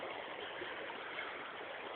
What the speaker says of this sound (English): I'm here at the creek. The water is flowing.